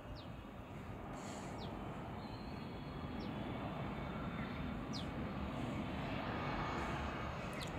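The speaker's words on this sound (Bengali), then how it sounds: "উপর দিয়ে প্লেন যাচ্ছে।" An airplane passes overhead as a steady, broad roar that holds throughout, layered over continuous rainfall in a village setting with a few faint chirps above.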